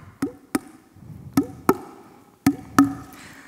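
A person imitates a male emu's call with six short, punchy, resonant low thumps in an irregular rhythm, each with a brief downward tail, close and fairly loud over a quiet background.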